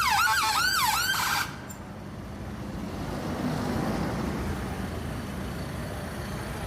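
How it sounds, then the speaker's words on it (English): A loud wailing ambulance siren cycles rapidly, then cuts off abruptly, leaving a low rumble of idling engines and traffic, with tractors blocking a London street during a farmers' protest. "The ambulance is trying to get through here. Got its blue lights on"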